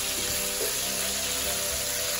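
Pork ribs frying in a clay pot, a steady close hiss and sizzle of fat running the whole time with faint clinks, no voices.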